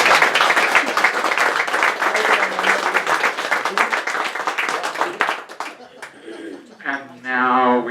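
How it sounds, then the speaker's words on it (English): An audience at a Gatewood Bed & Breakfast history gathering claps steadily for several seconds, a dense, even patter that fades out before a voice resumes speaking. "Could you please give Mary a round of applause?"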